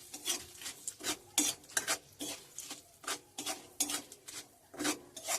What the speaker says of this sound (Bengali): আরও 2-1 মিনিট ভালো করে নাড়াচাড়া করে একটু ভেজে নেব।